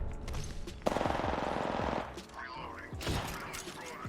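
Sustained automatic gunfire in the Apex Legends battle royale game, a dense rapid burst lasting about a second followed by scattered shots and game effects, with a voice talking over it.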